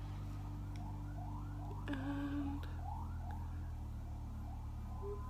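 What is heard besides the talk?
emergency vehicle sirens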